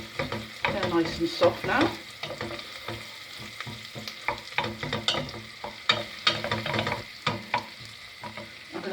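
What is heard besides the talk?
stirring food frying in a pan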